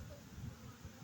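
Honey bees buzzing around an open hive during a Demaree split inspection, a low continuous hum with slight swells, close and steady.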